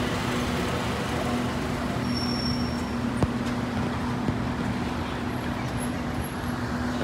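Highway traffic at a roadside in Japan, a steady broad roar of passing vehicles with a constant tonal hum and the occasional sharp tick.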